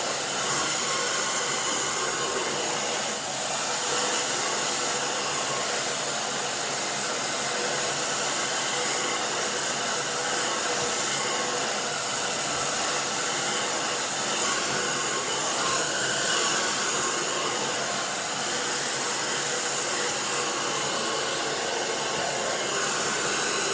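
A hair dryer blows loudly and continuously while hair is dried during a horizontal blunt haircut, a steady close rushing whoosh with no speech.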